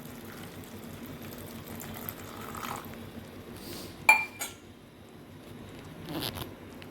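Water poured into a cooking pot of field bean seeds with dried shrimp on the stove, a soft, low liquid wash with a couple of brief clinks and splashes, no talking.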